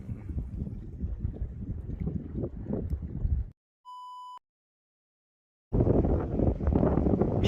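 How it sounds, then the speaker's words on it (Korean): Strong wind buffets the microphone at a seaside breakwater, a loud low roar in two long stretches broken by a short electronic beep and near-silent gaps. "와 바람이 엄청납니다."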